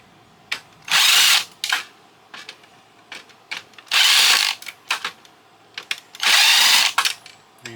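Power screwdriver backing screws out of a Daewoo DVD player during scrapping, three loud bursts of whirring each about a second long, separated by clicks and handling noises, close up.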